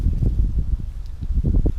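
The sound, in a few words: wind blowing through leaves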